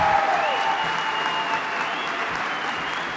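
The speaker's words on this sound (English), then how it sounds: "Let's give them a big round of applause." Applause for graduates at a Central Lakes College registered nursing commencement in Brainerd, a full, steady crowd clapping that fills the hall throughout, loud and sustained.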